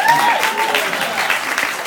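A comedy club audience applauds in a short burst, dense clapping at a steady level for about two seconds with a faint voice over it.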